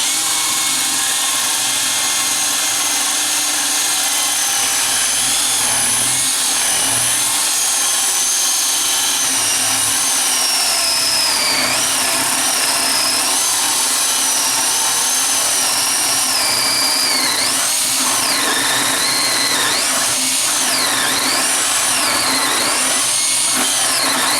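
A power drill bores into a deer antler to fit it onto a reproduction skull, a loud, steady whine that wavers in pitch as the bit bites, with no talk.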